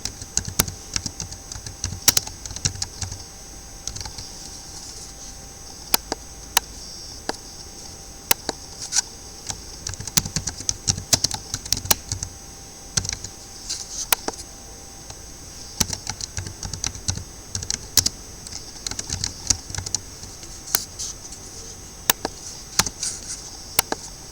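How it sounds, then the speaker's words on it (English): Typing on a computer keyboard while entering addresses for a mail merge in OpenOffice, with irregular bursts of close, crisp key clicks running steadily over a faint background hum. "Now I will type the addresses of these parents."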